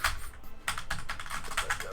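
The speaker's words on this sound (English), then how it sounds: "Tapped a couple of keys, hope that did something." Computer keys are tapped in a quick, close series of clicks, steady and unhurried, with no voices.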